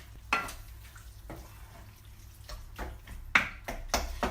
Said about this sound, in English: So, stir that in.